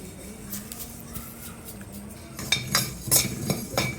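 Garam masala spices are stirred as they roast in a pan, with a series of light metallic scrapes and clinks from a spoon against the pan, growing busier toward the end over a faint low hum.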